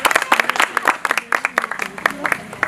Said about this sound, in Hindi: ओके धन्यवाद। जोरदार ताली के साथ।